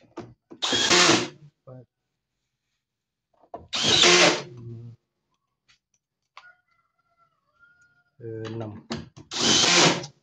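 A power screwdriver drives screws into a replacement PCB board for a Samsung WA10J5710SG washing machine. Three short, loud whirring bursts are spaced several seconds apart, with brief talk and faint handling sounds in the gaps.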